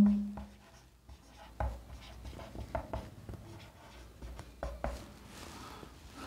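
A pen writes numbers on paper while working a math problem, with faint irregular scratching strokes and soft taps, close by and quiet, and no talk.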